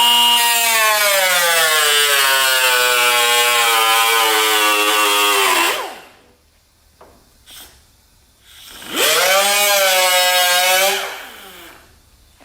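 A loud power saw whines as it cuts through a panel, stops, then bites in again for a second, deeper long cut through the panel, with quiet pauses between.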